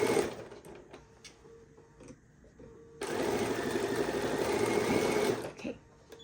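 A sewing machine stitching a label onto a quilt: a few short stitching bursts at first, then a loud steady run of rapid stitching for about two and a half seconds that stops abruptly, all close up.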